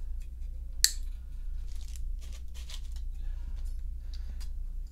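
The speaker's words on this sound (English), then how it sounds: "Now the string is loose, I can cut it halfway down the length." A loose guitar string on a Godin xtSA guitar with locking tuners snipped halfway down its length, one sharp cutter click near the start, followed by faint handling noises and quiet rustles.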